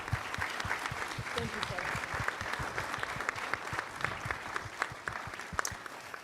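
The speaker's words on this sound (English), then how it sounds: "Please give them a round of applause." An audience at a community conversation on teens and gun violence breaks into sustained applause, dense and steady for the whole stretch, with a few louder individual claps standing out.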